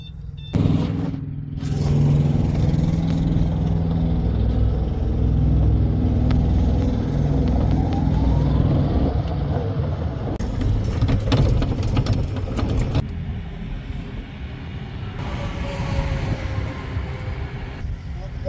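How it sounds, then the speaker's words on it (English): An old golf cart motors along at a trucking yard, a steady low engine hum and rattle, with a brief quieter gap early on and clicking mechanical noises in the middle, running continuously throughout. "I can use the old golf cart here to track down the truck"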